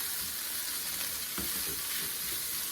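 Ham sizzling and frying in a hot pan, a steady close crackle running throughout with a soft stir or scrape partway through; no talking.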